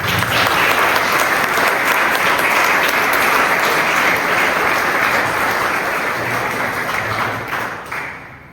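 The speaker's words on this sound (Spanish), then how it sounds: "Un aplauso, por favor." Audience applause at a contemporary art fair talk honoring two art-world figures, a dense steady wash of many hands clapping loudly and continuously, tapering slightly near the end.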